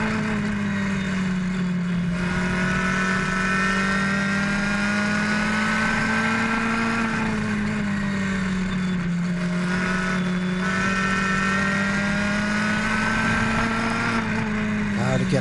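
Race car engines roar steadily on an oval track as cars close on and pass slower lapped cars, a sustained loud drone with rising and falling pitch as they go by, with a commentator talking throughout.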